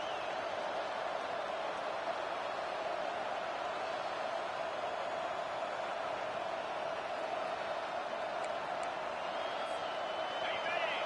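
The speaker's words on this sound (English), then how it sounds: "This crowd, full throat, splitting the eardrums and letting them know it's going to be a long day." A football stadium crowd keeps up a dense, steady roar throughout the game, loud and unbroken, with a faint voice somewhere within the wash of noise.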